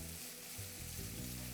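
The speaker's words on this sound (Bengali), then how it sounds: "তারপর হাই ফ্লেমে এটাকে ভালো করে ভেজে নেবো যতক্ষণ এটা একদম লাল লাল হয়ে ভাজা হয়ে যাচ্ছে" Thinly sliced onions fry over a high flame for a mushroom and peas curry, giving a steady close sizzle with low crackling throughout, alone.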